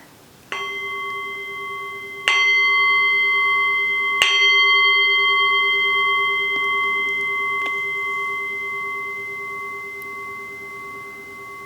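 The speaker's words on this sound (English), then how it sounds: "When you don't hear the sound of the bell anymore" A meditation bell is struck several times at irregular intervals, each strike clear and close, its pure tone ringing on and slowly fading in a quiet space.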